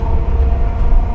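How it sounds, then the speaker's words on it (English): A train rolls toward Sawbridgeworth with a heavy, steady low rumble of wheels on track, loud and close from inside the carriage. "We're just on the train now"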